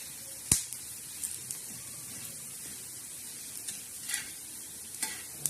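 Coriander seeds dry-roasting in a pan for a spiced masala: soft scraping stir strokes and faint crackling sizzle, with a sharp tick near the start and a few lighter clicks later, no voices.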